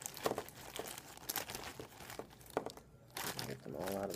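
A plastic baggie of chemistry lab supplies crinkles in short, close bursts between pauses, with a voice speaking briefly near the end.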